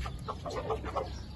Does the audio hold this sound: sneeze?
no